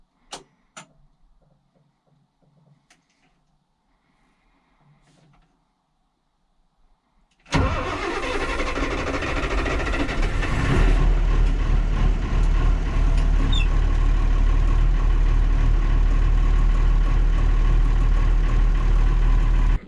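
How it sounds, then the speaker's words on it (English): Quiet scattered ticks and clanks, then a tractor engine cranks and catches, settling into a loud, steady rumbling idle that runs to the end. "we'll get this tractor warmed up"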